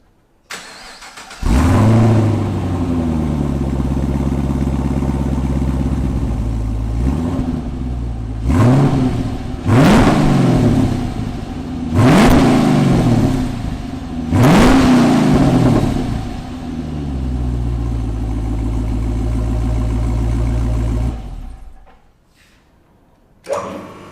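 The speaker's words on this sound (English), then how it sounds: "let's have a listen to the factory exhaust first" An HSV R8 Maloo on its factory exhaust starts up and idles with a deep, steady rumble, then takes five sharp revs that swell and fall back, before the engine is shut off near the end.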